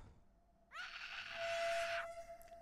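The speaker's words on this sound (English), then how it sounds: "The screaming freaks me out." A shrill scream in the video game Hello Neighbor, a single sustained cry lasting over a second against a steady tone and quiet background.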